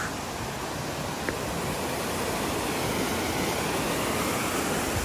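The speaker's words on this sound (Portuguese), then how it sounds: "Só indo daqui da cachoeira Ponte de Pedra." Ponte de Pedra waterfall on a rainy, drizzly day, a steady broadband rush of falling water that stays loud and constant from start to end with no voices over it.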